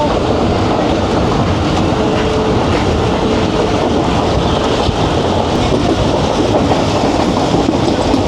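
The Jaffar Express runs at speed on rails through rainy Punjab countryside, giving a loud, continuous rumbling roar of wheels and carriages heard from inside the train.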